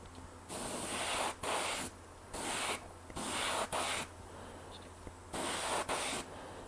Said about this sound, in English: The yellow is just sprayed so easy.